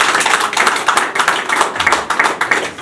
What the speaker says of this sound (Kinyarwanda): mubaha amashyi menshi